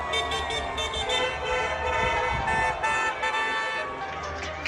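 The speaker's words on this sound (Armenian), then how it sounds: "Մադրիդի թաղամասերում հնչել են ծափեր ու ազդանշաններ։" Car horns honk in the streets of Madrid, repeated overlapping toots rising over a murmuring crowd and traffic, loud and fairly near throughout.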